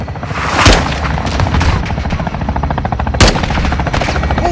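Air strike in Call of Duty Modern Warfare 2 pounds a building: loud, dense, continuous gunfire with two sharp booming explosions, the first early and the second later.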